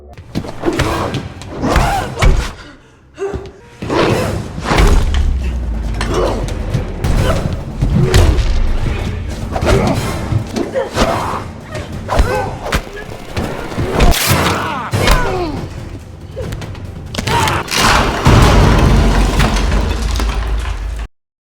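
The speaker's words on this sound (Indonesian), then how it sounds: "menendangnya hingga menghantam tiang yang membuat langit-langit runtuh" A film ceiling caves in after a fighter is kicked into a pillar, producing loud, sustained crashing with repeated thuds, cracks and splintering debris, layered over dramatic soundtrack for about twenty seconds.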